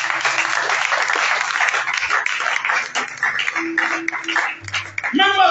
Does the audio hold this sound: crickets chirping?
no